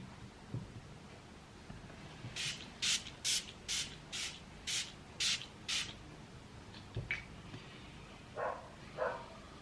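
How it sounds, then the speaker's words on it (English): Eight quick hissing spritzes from a spray bottle in an even rhythm, fairly close, followed by a few fainter scattered bursts, over a quiet indoor background. "Let me just use a spray to connect back to it."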